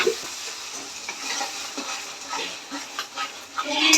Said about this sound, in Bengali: এটা একটু কষতে দেবো ততক্ষণে